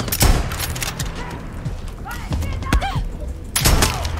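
Far Cry 6 gunfire lands in a few loud, close bursts, one at the start and another near the end, with scattered thuds and mechanical clicks between, as a player speaks over the action.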